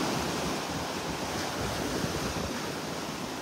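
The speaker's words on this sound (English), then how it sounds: "Feels like the wind's coming in from behind me from the south." Wind blows steadily at a beach in North Naples with surf underneath, making a constant, close, loud rushing roar with no letup and no voices.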